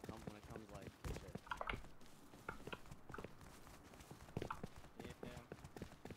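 Horse hooves clip-clop in a Rust game session, a steady trotting patter running under loud, continuous talk from players, with some brief higher clicks and game noises mixed in.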